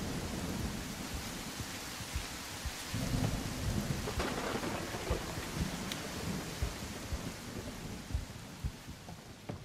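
Steady rain and rolling thunder in a tactical shooter game set at an abandoned research facility: a continuous wash of rainfall with low rumbles swelling around the middle, heard alone at a moderate level.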